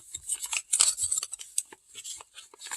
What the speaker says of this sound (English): So you're gonna fold this to the side, and then you're gonna fold this up